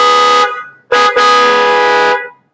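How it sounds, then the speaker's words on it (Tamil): A Blaupunkt car horn fitted to a Renault Kwid blares loudly and close, one short honk followed by a longer sustained blast of about a second, with a bright, harmonic-rich tone. "இப்போ ஹாரன் ஜஸ்ட் ப்ளே பண்ணி காமிக்கிறேன் பாருங்கள் இதோட சவுண்ட் குவாலிட்டி எப்படி இருக்குன்னு"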